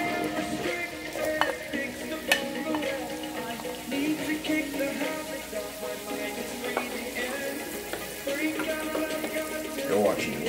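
Garlic and scallion sizzle and crackle in melted butter for a Jamaican-style steamed fish dish, a busy close frying hiss broken by utensil clatter and stirring, with a voice partly audible underneath.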